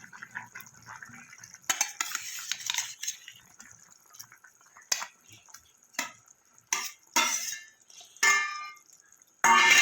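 Fried eggplant goes into a pan of boiled potatoes for a spicy fish curry, and a spoon clatters and scrapes against the pan in repeated stirring strokes, with soft sizzling between them.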